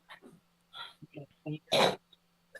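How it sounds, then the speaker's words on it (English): Short bursts of coughing and throat clearing come in quick succession during a Florida court bond hearing, with one louder, harsher cough near the end, close and dry. "that cough doesn't sound too good"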